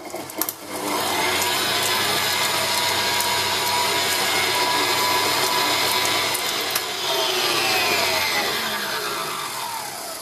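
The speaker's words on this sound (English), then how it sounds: "To that add 1/4 cup of caster sugar, white sugar or extra fine sugar, and beat this until it's nice and creamy." Egg yolks and caster sugar for eggnog being beaten until creamy with an electric mixer, a loud steady motor whir running without a break from start to finish.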